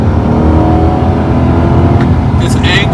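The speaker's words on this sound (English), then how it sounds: "that big Chevy V8 starts talking to you" A 2020 Chevy Corvette C8 with its big V8 drones steadily at high revs through the turns, a loud, continuous engine roar with a faint higher whine near the end.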